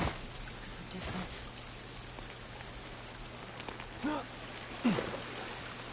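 Steady rain patters on a surface at a low level in the video game The Last of Us, with a couple of brief louder sounds breaking through near the end.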